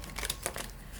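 Tarot cards being shuffled in a choppy, uneven way, giving a quick run of soft papery riffles and taps that sound close and fairly quiet, with no talking.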